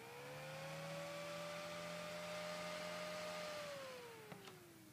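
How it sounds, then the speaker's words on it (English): Small fan motor driven by a 555-chip PWM speed controller with a power MOSFET hums and whines steadily, with the pitch holding and then sliding down as the speed is lowered, heard close and alone. "you can control the speed of the motor with a potentiometer."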